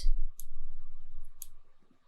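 Arrow keys on a computer keyboard pressed twice in a quiet room, two brief crisp clicks about a second apart over a low steady hum.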